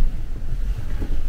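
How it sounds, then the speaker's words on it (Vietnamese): Strong wind of a Finnish snowstorm buffets the microphone outdoors, a loud, continuous low rumble with uneven gusting surges and no voices. "Gió lắm luôn á, bão tuyết mà."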